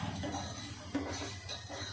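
Khichdi being stirred in a pot with a metal spoon makes soft, faint clinks and scrapes against the vessel, with one sharper knock midway through a short, quiet stretch.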